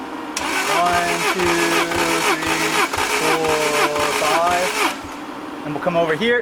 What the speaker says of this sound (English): let's go ahead and crank the Lotus over